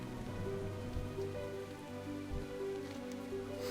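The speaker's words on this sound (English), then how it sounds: "I hope this rain isn't a bad omen." Rain falls steadily in World of Warcraft: Shadowlands, a soft, even patter that continues throughout beneath faint sustained musical tones.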